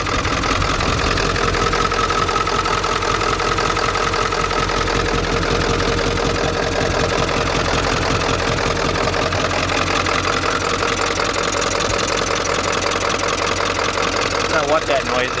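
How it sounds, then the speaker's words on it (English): Old Ford pickup engine idling rough and misfiring, a loud close steady rumble with uneven knocking beats throughout, and voices talking over it. "See, it took forever to start and there's blue smoke coming out. It's missing."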